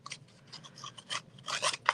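Scissor blades scraping and rasping along the sides of an object, a string of short irregular scratching strokes close to the mic, growing louder toward the end.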